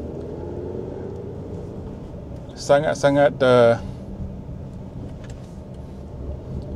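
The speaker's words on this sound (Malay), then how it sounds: "So kita boleh rasa bahawa engine sedang bekerja, tapi bunyi dia memang macam BMW" Steady low engine rumble from a Jetour Dashing 1.5, a Chery sub-brand car, pulling in sport mode, heard from inside the cabin as a continuous drone while someone speaks briefly over it.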